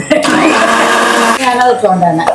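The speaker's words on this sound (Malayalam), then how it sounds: "ഇത് ശരിക്കും അരിക്കിട്ട് മിക്സ് ചെയ്ത് അരക്കണം" A mixer grinder grinds rice batter for pesaha appam with a loud, close, high motor whir whose pitch shifts as the load changes, lasting just over two seconds, with a voice talking over it.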